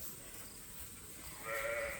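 A single short sheep bleat near the end, fairly faint over a quiet background.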